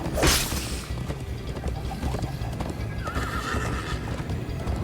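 A horse in Minecraft: Story Mode gallops with steady hoofbeats and a loud whinny at the start, over a busy, rumbling background.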